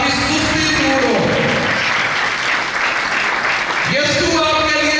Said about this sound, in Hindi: जरा जोर से तालियां बजाइए यीशु के लिए